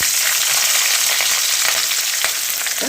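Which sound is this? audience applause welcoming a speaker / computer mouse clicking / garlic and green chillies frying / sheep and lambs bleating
garlic and green chillies frying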